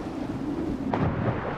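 Thunder rolls through a storm at sea in Assassin's Creed IV Black Flag, a heavy low rumble with a sudden deeper crack midway, loud over constant wind and rain noise.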